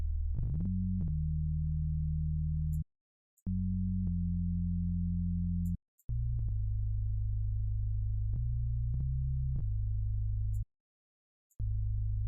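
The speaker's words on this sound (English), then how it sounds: "3XOSC is kind of our sub bass." Pure sub-bass tones from the 3XOSC synthesizer in FL Studio play a simple deep bassline of sustained notes that step between pitches, with short silent gaps, clean and alone.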